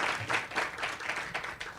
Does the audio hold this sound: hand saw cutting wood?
no